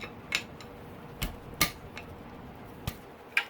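A 24mm wrench works on the hydraulic cam chain tensioner of a 2016-2022 KTM 250SXF engine, giving several sharp, isolated metallic clicks and clanks at irregular intervals over a quiet background.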